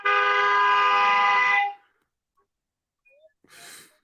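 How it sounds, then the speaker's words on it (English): A car horn blares outside in one long, loud, steady honk lasting over a second and a half, then cuts off into near silence before a brief burst of noise near the end. "I love when people I love when people honk"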